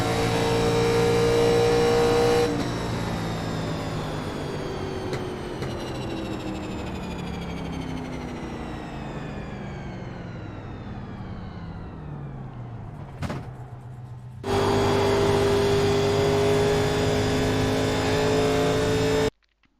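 A 1987 NASCAR Legends stock car engine at Indianapolis in iRacing, loud and close, holding a high note and then falling steadily in pitch as it lifts off before a sudden jump back to full throttle.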